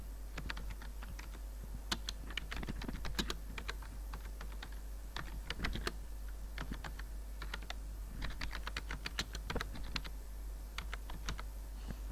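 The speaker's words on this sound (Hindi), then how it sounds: "एड्रेस टाइप किया।" Steady typing on a computer keyboard while entering an address into a Microsoft Word office card design, with dense, fairly even clicks and short pauses throughout, close and clear with no talking.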